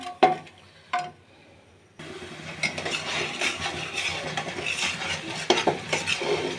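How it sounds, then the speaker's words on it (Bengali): Spices frying and being stirred in a pan for a hilis pulao, a steady close sizzle with scraping spoon strokes, preceded by a few sharp clinks of cutlery. "মশলাটা বুনে নিচ্ছি এখন মশলাটা একটু বুনে নেব"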